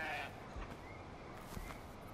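A goat bleats once in the video game Far Cry 4, a short, fairly faint cry over a quiet wash of ambient game noise.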